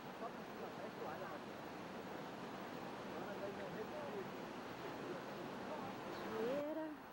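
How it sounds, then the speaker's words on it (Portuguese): A waterfall at Chapada dos Guimarães pours steadily, a constant broadband rush of falling water that stays even throughout, with a faint voice or two briefly rising near the end. "Cachoeira."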